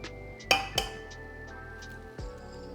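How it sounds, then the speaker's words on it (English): Eggs cracked against a bowl of cheese, giving two close sharp taps that ring briefly like glass, then a third tap near the end. "I'm going to crack 3 eggs."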